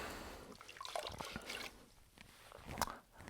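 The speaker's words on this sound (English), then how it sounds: "There's a few drips happening." Rinseless car wash solution drips and trickles off a car body panel, a few close, soft splashes and wet patters against a quiet background.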